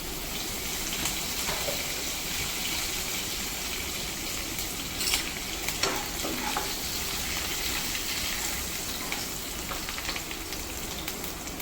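Curry leaves crackle in hot oil for the tempering of a Kathiyawadi Gujarati kadhi, a dense, steady, close sizzle with a few sharper pops, and no voices.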